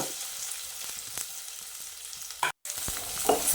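Fenugreek, fennel seeds, curry leaves and onion fry in hot oil with a soft, steady sizzle, brief stirring scrapes and a short cut in the middle, growing louder at the end.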